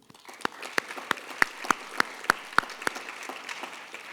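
Sparse, spaced claps ring out at a 2022 physical therapy assistant program graduation, a handful of distinct hand claps in a fairly quiet hall rather than a full ovation.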